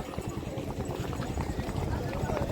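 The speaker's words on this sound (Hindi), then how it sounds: "चाल देखिए उस घोड़े की।" Horse hooves beat in a rapid, steady clip-clop during a rewal gait race at Dhanavada, Abdasa, Kutch, a ridden mare moving close and continuous with a crowd and commentary voices underneath.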